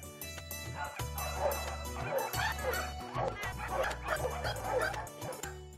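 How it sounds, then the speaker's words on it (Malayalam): German Shepherds, Labradors and Rottweilers at a dog-breeding farm bark, yip and whimper repeatedly, close and fairly loud, over a steady low droning background. "German shepherd, lab, root dealer തുടങ്ങി മുന്തിയ ഇനത്തിൽപ്പെട്ട നായ്ക്കളാണെല്ലാം"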